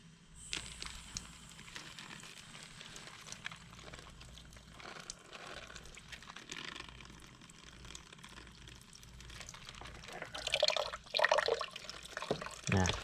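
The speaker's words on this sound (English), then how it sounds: "Can I just rinse it under some water?" Tap water runs and splashes as something is rinsed under it, a steady faint trickle that grows louder and more broken with splashing near the end.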